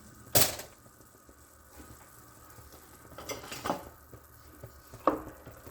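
Noodles being stirred into goulash with ground beef in a pan, giving a few soft scraping and clattering strokes against the pan over a faint low hum, with one sharp clack near the start.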